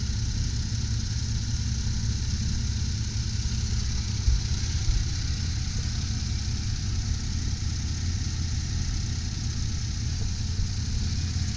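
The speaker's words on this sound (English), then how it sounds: "Engine's nice and quiet, it's running smooth." A 2004 Pontiac Montana cargo van engine idles with a steady, low rumble, smooth and constant with a faint mechanical hum and no revving.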